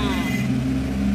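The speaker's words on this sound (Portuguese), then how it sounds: "Desculpem aí o caminhão." A truck passes outside a home, its engine rumbling in a steady, fairly loud low drone with a hum that holds for just over a second.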